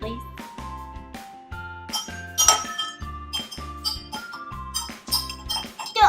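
A spoon clinks repeatedly against a glass as food-coloured water is stirred, giving bright, rhythmic tinkling strokes close by while someone speaks over the sound.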